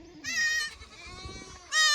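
A herd of goats arriving, bleating repeatedly in loud overlapping calls close by, with a short gap between bursts and low shuffling noise underneath.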